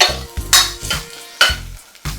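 Onion and green chilli fry for veg biryani while a metal spoon scrapes and stirs the pan in loud repeated strokes over a steady sizzle.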